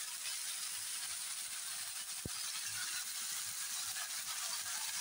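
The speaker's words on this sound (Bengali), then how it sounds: "তেলটা দিয়ে আমি এখন একটু ভালো করে ভেজে নেব।" Vegetables sizzling in a generous amount of hot oil for a vegetarian curry, a steady broadband hiss of frying with one sharp crackle partway through, close and continuous with no talking.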